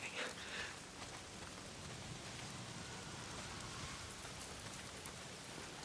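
Steady rain falls in the post-apocalyptic video game Days Gone, a dense, continuous hiss of drops washing over everything at an even loudness, with no voices.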